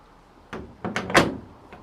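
A door with realigned hinges is opened and closed, several soft knocks and bumps building to a firm latching thud, fairly close with no talk over it.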